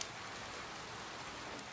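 Steady rain falling, a soft, even hiss of drops with no other sounds, faint and unbroken for under two seconds.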